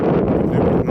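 Wind gusting over a lake in foul weather with fog and snow on a winter fishing trip, a steady, loud broadband roar buffeting the microphone for a second with no pause.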